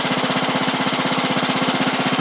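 A Craftsman LT1000 lawn tractor with a Briggs Intek engine, which has head and belt issues, runs close by with a loud, rapid, even chugging throb and no pause.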